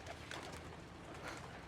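Pigeons in a pigeon house give soft, low, murmuring coos, faint and continuous against a quiet background.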